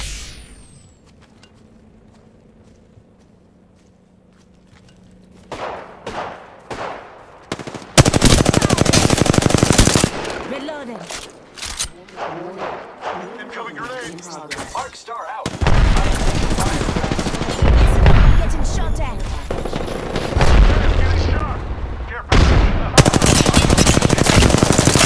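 Automatic weapon fire from R-301 and R-99 guns rattles in loud, sustained bursts during an Apex Legends firefight, starting after a quiet opening and continuing in long near-continuous volleys with brief gaps.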